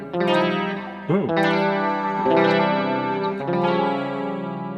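Clean Telecaster guitar on the bridge pickup played through a chorus effect, a few jazzy chords struck and left to ring with a swirling, shimmering wobble, close and full.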